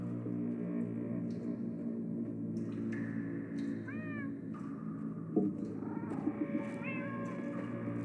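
Several cats meow in short, rising calls over a low droning hum in Minecraft: Story Mode, with a faint thump midway.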